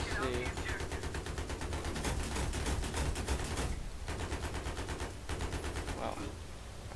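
A mounted turret in a Battlefield match fires rapid, sustained bursts, dense and close, broken by short pauses, while a player talks over the gunfire.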